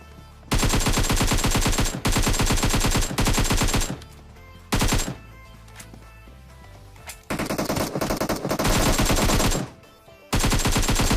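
AKM assault rifle fire in PUBG Mobile, loud sustained automatic bursts that repeat several times with short gaps and quieter stretches between them.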